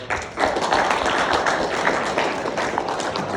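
Audience applause at a fireside chat with a trading personality, a steady dense wash of clapping from many hands that swells in and holds throughout.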